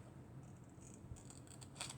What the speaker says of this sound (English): And these are my best scissors for cutting straight.